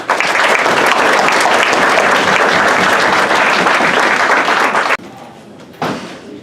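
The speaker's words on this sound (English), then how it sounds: "So we'll give her a big round of applause." Loud, dense applause from a crowd at a fall sports awards banquet, sustained for about five seconds before cutting off abruptly, followed by a brief quieter burst.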